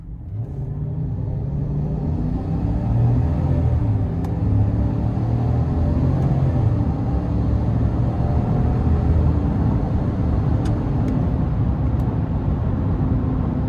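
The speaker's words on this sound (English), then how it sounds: "So nice rumble from the V8." A 5.3-litre V8 in a 2026 Chevrolet Silverado 1500 LT Z71 pickup rumbles deep and loud as it accelerates up an interstate on-ramp, a steady close growl with exhaust note and no voices.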